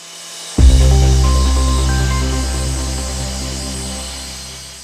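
A STIHL cut-off saw starts abruptly and runs at a loud, high-pitched whine that sustains and slowly fades a little, as if spinning up to cut a brick held in a guide jig.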